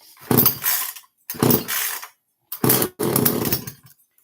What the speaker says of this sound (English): I'm not sure that you should start a chainsaw in the house